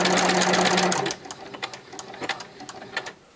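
A sewing machine stitches a hem in one loud, close, rapid burst lasting about a second, then stops, leaving quiet handling noises.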